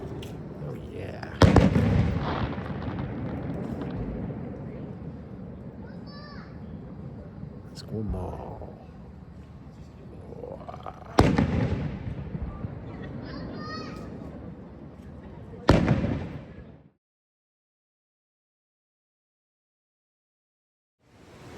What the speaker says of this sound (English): A fireworks display.